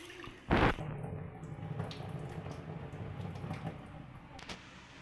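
Black-eyed peas being washed under running water in a kitchen sink, a steady close stream of splashing and trickling after a brief loud gush at the start, with faint clinks, no talking.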